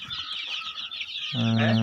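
High-pitched cheeping of day-old Gramalakshmi chicks chirps continuously, with a louder, closer call joining near the end.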